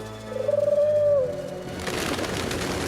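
A pigeon coos once in a low, rolling warble, fairly close, followed by a burst of rustling, fluttering noise.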